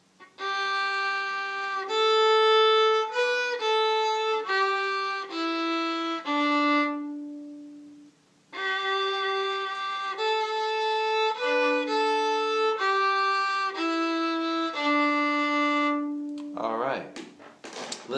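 A fiddle plays the second quarter of the Kerry Polka, a lively run of bowed notes repeated twice with a brief pause between, clear and close, ending with a short scratchy bow sound.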